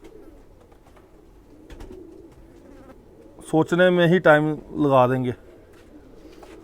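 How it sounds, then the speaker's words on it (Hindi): Male khaki pigeons give a loud, rolling coo in two close bursts, close by, after a man's quiet speech; faint background murmur throughout. "ये भी मेल कबूतर है जी।"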